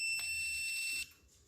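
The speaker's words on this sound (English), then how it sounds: "when it turns green and beeps, that means you have power to that wire" A handheld voltage tester held near a live wire on Christmas lights, giving a steady high electronic beep for about a second, close and clear, then cutting off to quiet room tone.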